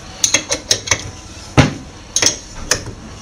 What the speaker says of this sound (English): by using a 14 spanner, I'll turn the spindle.